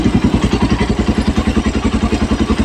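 A Suzuki Raider motorcycle engine fitted with a 28mm round carburetor, stock carb, runs loud and close with a steady, rapid pulsing beat and clattery mechanical thumps, no voices.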